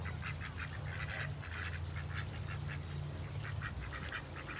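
Backyard ducks quack in repeated short bursts against a steady low hum, fairly near and continuous, with no talking.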